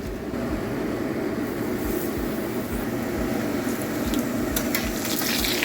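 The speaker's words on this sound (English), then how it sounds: "now the oil is starting to smoke, so you probably want to turn on a fan and get to frying" Taco shells fry in smoking-hot oil, a continuous close crackling sizzle with scattered sharper pops and spits, steady in loudness throughout.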